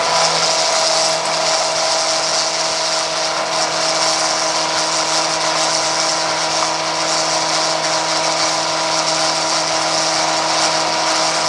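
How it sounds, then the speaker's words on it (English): A small transfer pump pushes transmission fluid into a Chevrolet Colorado or GMC Canyon transmission, giving a steady, continuous mechanical whir and hum with a constant tone, running close and alone without pause. "using the little transfer pump, after about 2 minutes, all 7 quarts are in."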